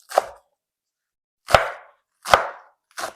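A knife chops through Chinese cabbage or romaine lettuce for a salad in four crisp, separate strikes, each a short crunchy thud with a quick fade and pauses between, close and clear with no talking.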